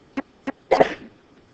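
One person sneezes during a maths lesson: two short sharp catches of breath, then a loud, close burst that trails off quickly into a quiet room.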